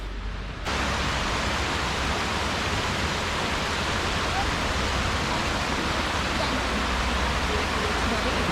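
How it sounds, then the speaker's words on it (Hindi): Steady broadband rush of flowing water at Eco Cave Park in Nainital, a hill-station setting, continuous and fairly loud from just after the start with no gaps or voices over it. "पानी की आवाज़ तो आपको आ ही रही होगी, मतलब इतनी सूदिंग आवाज़ होती है"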